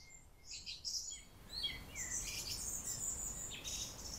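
Songbirds chirp and trill in short bursts on a barbel fishing outing, bright calls layered over soft steady outdoor background noise, growing busier after the first second and a half.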